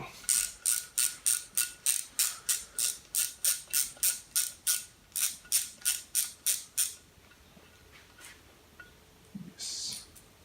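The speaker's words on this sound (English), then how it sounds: "we can try to do with the smaller ratchet" A small ratchet works a 12 mm hollow banjo bolt on a Suzuki GSX-R SRAD motorcycle engine, giving a fast, close run of rhythmic clicks that stops partway, followed by a few quieter metallic sounds.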